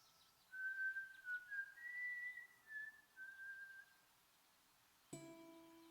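A video game character whistles a short, wavering tune in Broken Sword: The Serpent's Curse, several clear phrases alone in a quiet scene, followed by a brief musical chord at the end.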